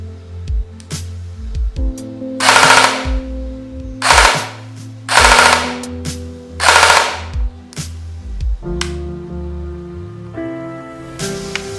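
An ARES Amoeba AM-014 airsoft replica fires several sharp, rapid bursts in close succession, each a loud rattling volley. A whirring gearbox hum rises and falls between the bursts.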